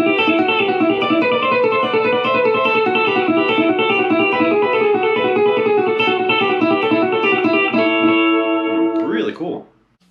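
An electric guitar lick played through a repeating echo delay, with dense sustained distorted notes ringing out continuously before cutting off abruptly near the end; no voice over it.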